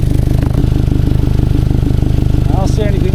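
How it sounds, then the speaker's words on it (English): A 2011 Toyota Camry engine idles steadily with an exhaust leak at the flex pipe, giving a rapid, even puffing pulse close by and loud throughout, with a brief squeak near the end. "So that's the exhaust leak."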